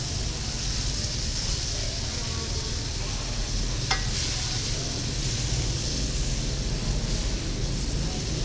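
Shrimps frying in butter in a hot pan, a steady, dense sizzle close by that runs throughout with one brief sharp crackle partway through; no talking.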